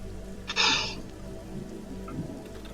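Rain falls steadily in a soft patter, with a brief louder hiss burst early on and faint background sounds.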